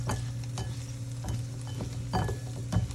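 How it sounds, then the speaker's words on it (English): A steady low hum runs under intermittent crackles and scraping stirs of zucchini sizzling in oil in a hot pan, moderately loud and close. "you can obviously hear it sizzling, see?"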